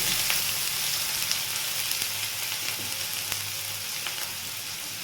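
Chopped onions sizzle and fry steadily in hot oil in a pan, a dense continuous crackle with occasional small pops, close and fairly loud, no voices.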